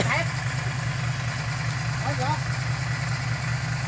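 A tractor engine idles with a steady low rumble and vibration throughout, close by.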